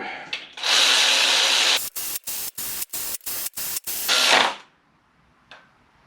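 Ratchet tightening clutch bolts on a Subaru Forester in a star pattern: a burst of loud rasping clicks, then a rapid series of about eight short ratchet strokes, close by, ending in quiet.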